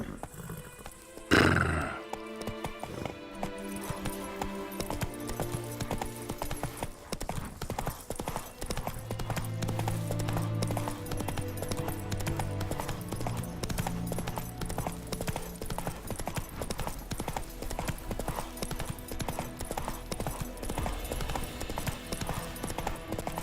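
A horse gallops in The Witcher 3: Wild Hunt, steady rhythmic hoofbeats running continuously over game music, with a loud whinny near the start.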